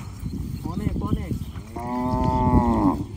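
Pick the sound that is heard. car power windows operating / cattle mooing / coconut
cattle mooing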